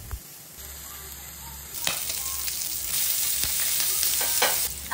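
Pork belly seasoned with salt and pepper fries in a pan, a steady close sizzle and crackle that grows louder partway through, with occasional stirring scrapes.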